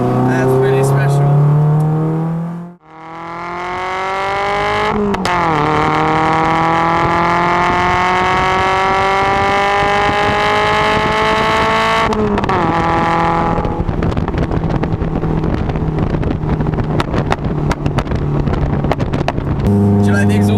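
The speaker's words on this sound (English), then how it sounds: "The exhaust is a bit different to what I'm used to in an Elise." A Lotus sports car driven on the Hethel race track, its engine droning loud and close with rising and falling pitch through gear changes, a sharp cut near the start and rough crackling texture in the exhaust note.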